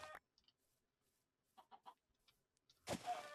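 Short, sparse clucks from chickens in Minecraft, a few quiet pecking blips spaced apart, then a louder squawking burst at the end against near silence.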